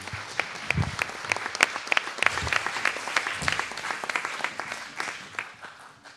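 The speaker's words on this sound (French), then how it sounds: "sous vos applaudissements, évidemment" A conference audience at the Collège de France colloquium on AI applauds as the first presenter is called up: many hands clapping in a brisk, dense, steady patter with some sharper individual claps, lasting several seconds before tapering slightly.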